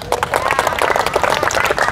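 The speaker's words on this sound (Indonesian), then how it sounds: "Di sini boleh tepuk tangan." Indonesian church congregation claps loudly during a sermon, a dense burst of fast, uneven hand claps close by, with crowd noise mixed in and no clear speech.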